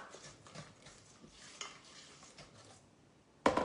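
A spoon works grated gruyère into a savory ham and olive cake batter, making soft, close, uneven scraping and stirring sounds in a quiet kitchen. A sudden loud clatter comes right at the end.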